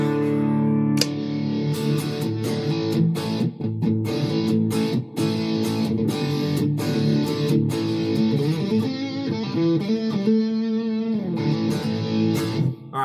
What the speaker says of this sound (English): that is the heavy distortion